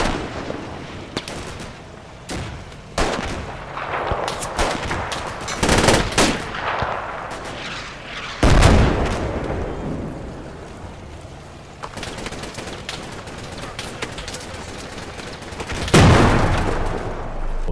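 Sustained gunfire from Sherman half-tracks in the Combat Mission Final Blitzkrieg war game: dense, overlapping bursts of machine-gun and rifle shots, punctuated by a few louder, booming reports, with no voices.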